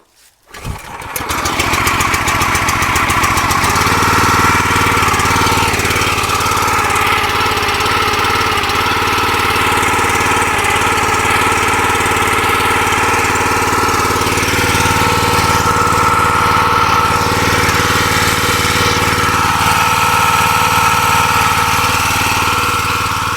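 Log splitter engine firing up and settling into a loud, steady running drone with the hydraulic pump whining beneath it, heard close and continuous with no talking.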